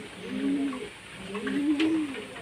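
Madras Fulsira pigeons coo in two long, rolling, throaty phrases, close and clear with no speech.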